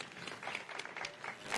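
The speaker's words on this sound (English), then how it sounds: "Let's clap for them" A short burst of applause from a crowd at a sports games opening in a stadium in Narok County, Kenya, dense overlapping claps at moderate loudness.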